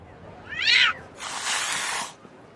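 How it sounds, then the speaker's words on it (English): A loud, drawn-out angry cat meow in the tactical RPG Arc Line rises and falls, followed by a harsh, noisy hiss-like yowl, both close and clear with no talking. "I like how the cat just sounds angry every single time we get anywhere nearby."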